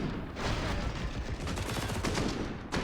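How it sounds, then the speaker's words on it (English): Rapid automatic fire from an MP9 submachine gun during a competitive CS:GO match on the Nuke map, dense overlapping bursts of shots sustained loudly through the whole moment with little pause. "What a pesky, pesky weapon the MP9 is."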